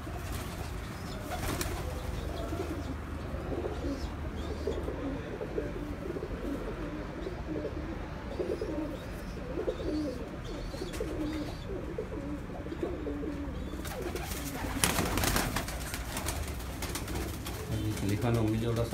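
Breeder pigeons on a rooftop loft coo in soft, repeated low calls with occasional wing flaps, under steady background noise and someone speaking nearby.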